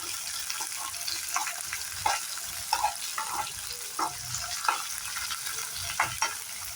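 Corn kernels frying with green chillies in a pan for corn rice, a close, steady crackling sizzle marked by frequent spatula scrapes and pops.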